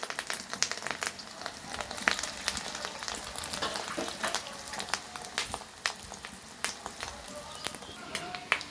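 Eggs shaped into logs or balls frying in a little oil over lowered heat, a steady crackling sizzle with scattered sharp pops throughout, close and unbroken with no talking.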